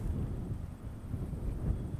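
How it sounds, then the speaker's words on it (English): Wind gusting across open coastal mud flats at low tide in Papanui Inlet on the Otago Peninsula, a steady low rumbling buffet against the microphone with no other sounds. "It's mid-morning and it's pretty windy out here."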